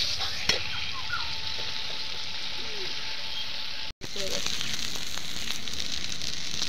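Egg curry spices sautéed in a pan make a continuous sizzling hiss, with light scraping from stirring and a brief cut partway through before the frying sound resumes.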